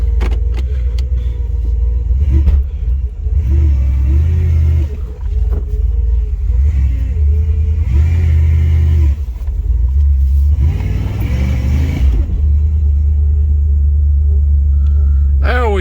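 Cadillac DeVille started after sitting unused for seven months, a loud close engine rumble with several revving surges, and voices speaking briefly over it.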